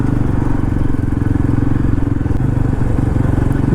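A Yazdi Roadster motorcycle cruising at about 30-40 km/h in traffic, its engine thrumming steadily and close up with a constant low pulse and road rumble throughout, no voices.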